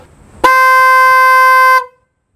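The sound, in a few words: new aftermarket horn on a Suzuki GS500 motorcycle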